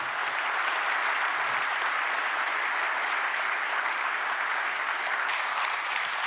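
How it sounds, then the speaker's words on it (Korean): A large audience claps steadily at a Korean government policy briefing, dense and continuous applause that holds an even level throughout with no speech over it. "네, 박수 부탁드립니다."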